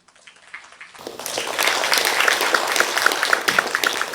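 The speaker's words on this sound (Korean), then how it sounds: "큰 박수로 맞이해 주시기 바랍니다." Audience applause at a city forum in Gwacheon welcoming a speaker, starting from near silence, swelling over the first second into steady dense clapping that continues to the end.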